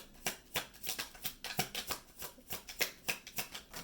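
Quick, repeated papery flicks of cards being shuffled by hand, close and fairly quiet, in an uneven rapid rhythm.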